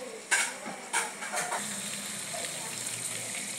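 Tuscan sausage frying in a pan, a soft continuous sizzle and crackle with a few sharper clinks and pops early on, steady and close.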